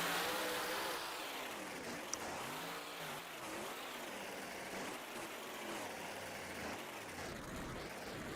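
Monster Mutt monster truck's engine rumbles and revs at a Tampa monster truck event, a steady loud roar that rises and falls in waves with arena ambience around it.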